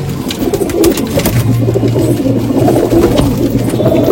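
Punjabi Malwai pigeons coo in a steady low rolling call, repeated throughout at close range with some background noise.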